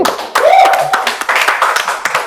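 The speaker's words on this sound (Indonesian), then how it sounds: "Boleh dong tepuk tangan." An audience gathered for a talk about a village breaks into close, loud hand clapping that keeps going, with a voice briefly audible over it.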